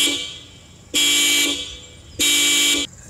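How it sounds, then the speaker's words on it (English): Two long, loud blasts of aftermarket quad horns on a 2013 Kia Optima K5, each about half a second, separated by a short pause. "As you can hear, that was quite loud. It's definitely an advantage over a stock horn system."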